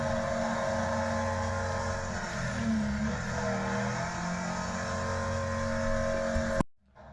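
A car engine in the racing game Wreckfest holds at a high, steady rev with a dense droning buzz and slight pitch wobble, loud and continuous, then cuts off abruptly near the end.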